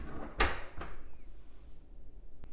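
A door swings shut on a short-term rental fitted with an Igloohome smart lock, producing a sharp close-up thud and then a second softer knock, followed by a faint click in a quiet room.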